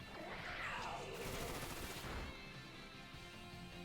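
Bullet Seed attack landing in a Pokemon battle game, a rapid barrage of popping hits blurring into a dense burst over about two seconds before fading into background game music.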